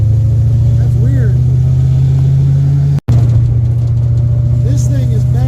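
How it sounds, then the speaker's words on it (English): A Ford Mustang's exhaust rumbles loudly and close with a steady low drone, faint pops and crackles scattered through, briefly cutting out mid-way before resuming; a voice speaks over it. "Insane backfiring, popping through the back of the exhaust"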